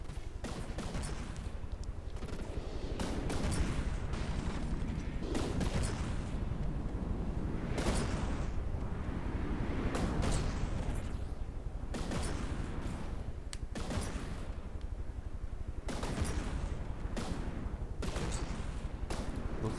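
Video game battle with incoming artillery shells and explosions, a dense continuous barrage of booms and rapid gunfire-like bursts, loud and unbroken throughout with no talking.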